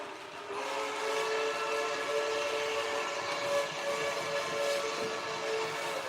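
A model train whistle on a New York Central steam locomotive sounds one long, steady, multi-tone blast of about six seconds, close and loud over a faint rolling rumble.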